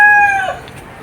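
A rooster crows close by, a single loud, sustained call that trails off and fades away within a second.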